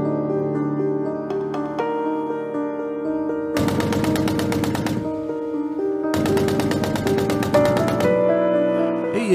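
A .50 caliber heavy machine gun on an AAV amphibious assault vehicle fires two long sustained bursts of rapid, loud shots, separated by a stretch of engine or vehicle drone.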